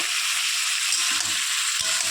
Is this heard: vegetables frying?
yes